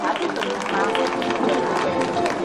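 An audience at the award ceremony of a nationwide acoustic-guitar busking contest applauds in a steady, dense roar of clapping that holds at full strength throughout.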